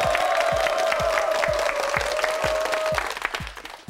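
Studio audience applause on a Korean TV language quiz show, a bright steady clatter of many hands over a backing music cue with regular thumping beats, fading slightly toward the end.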